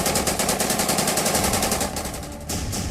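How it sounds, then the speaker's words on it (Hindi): AK-47 fire sprayed at a sweet shop in Srinagar: a long, loud, rapid burst of automatic shots, briefly pausing before resuming, with no voices. "इस आतंकी ने श्रीनगर के शिव शक्ति मिष्ठान भंडार पर गोलियां बरसाईं"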